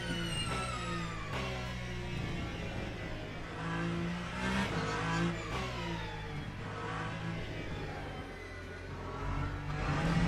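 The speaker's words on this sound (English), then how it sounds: "I like the battery sound in this car." A steady electronic drive tone from an electric race car's battery in a racing video game at Silverstone, rising and falling in pitch over a low hum, loud and continuous throughout.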